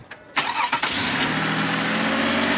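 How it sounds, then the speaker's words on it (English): Car that had been refusing to start cranks with a few quick, stuttering bursts, then catches and settles into a steady, loud, close engine idle. "start the car."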